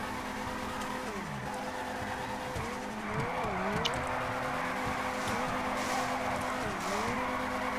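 Toyota A90 Supra drifting in GTA 5 FiveM, a sustained engine drone with repeated swooping revs and tire squeals through the drift, loud and steady, with no talk over it.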